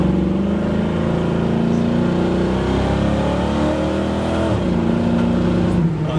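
A 1973 Chevrolet Camaro Rally Sport accelerating hard, its engine note climbing steadily through the revs with a brief dip at a shift, loud and continuous throughout.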